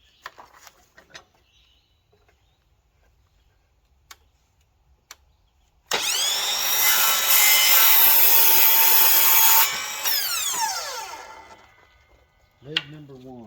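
A hand saw cutting a wooden table leg, about five seconds of loud rhythmic rasping strokes after quiet ticks and clicks, then tapering off, with a brief voice at the end.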